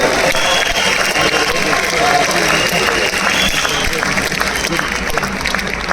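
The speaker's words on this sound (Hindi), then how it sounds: "इसलिए लेडीज के लिए जोरदार तालियां" A large seminar audience in Hyderabad claps loudly for the women, a steady dense wash of applause running the whole time with crowd noise mixed in.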